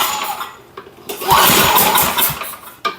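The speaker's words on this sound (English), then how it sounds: "hit this with a little bit of starting fluid and see if this thing will pop off" A Simplicity snowblower engine, primed with starting fluid, sputters briefly as someone tries to start it, giving a short rough burst of firing between pulls and mechanical clatter.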